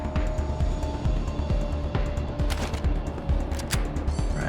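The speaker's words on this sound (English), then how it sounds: "Okay, shotgun." Gunfire rings out in the video game Wasteland 3 during a shotgun-armed fight, with a dense run of sharp, rapid shots and impacts over a throbbing game soundtrack, loud and continuous.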